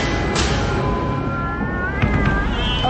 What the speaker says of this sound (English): Oh, it's only you, Kitty.